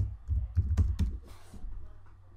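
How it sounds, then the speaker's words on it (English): A short burst of keystrokes on a computer keyboard as a word is entered into a software filter: a handful of close, crisp clicks in quick succession, then a brief pause and a final tap, with no speech. "I'm typing the word advert"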